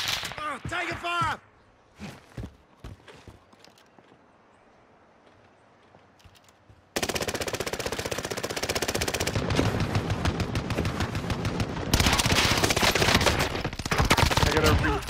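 A voice speaks over quiet background sound, then sustained, loud machine-gun fire from a shooter video game rattles on continuously, rising in intensity toward the end.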